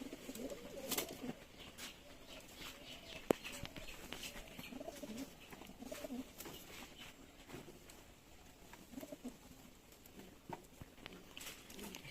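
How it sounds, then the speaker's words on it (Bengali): Breeder pigeons in a loft give soft, low cooing calls, faint and repeated, with light rustling and occasional pattering around them. "এখানে বেশ কিছু বিডার কবুতর"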